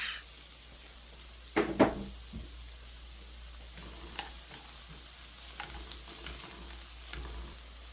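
Onions and ginger sizzle softly in a pan as the base for a risotto, a low steady frying hiss broken by a couple of brief louder stirring scrapes and small clinks, with no voices.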